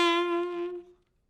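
An ascending jazz line with accented downbeats ends on a clear, bright note that holds for about a second and then quickly dies away into silence.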